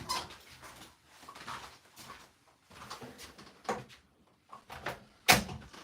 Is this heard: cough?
no